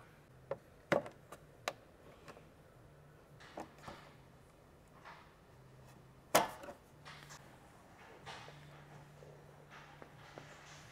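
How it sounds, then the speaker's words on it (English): A razor knife cuts and snaps through a plastic fender liner on a 2016-2023 Toyota Tacoma. It makes scattered sharp clicks and cracks, one louder snap among them, over a quiet background. "Just going to take a razor knife and cut this out"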